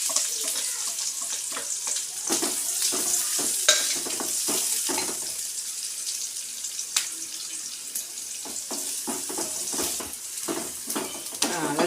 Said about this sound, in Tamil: வெங்காயம் கொஞ்சம் வதங்கிக்கிட்டு இருக்குது.